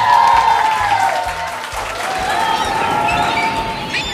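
A studio audience at a TV quiz show breaks into steady, loud applause that holds for several seconds, dense clapping with a faint crowd murmur.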